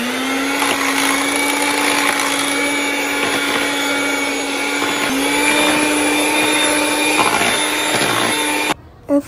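Crepe batter of flour and sugar whirred in an electric mixer or blender: a loud, continuous motor whine with a steady pitch, running close for about nine seconds and then cutting off abruptly.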